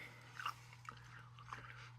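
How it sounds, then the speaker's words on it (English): Someone bites into a large Van Holten's hot pickle: a crisp crunch, then a couple of softer chewing bites, close and fairly quiet over a steady low hum. "Munching on a huge pickle."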